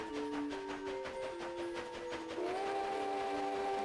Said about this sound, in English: Let me go and honk while taking that corner sharp.